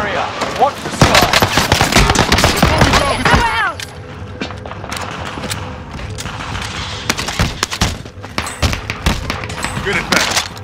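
Gunfire in Call of Duty: Modern Warfare, loud rapid automatic bursts at first, then scattered single shots and thuds through the rest, with voices talking over it.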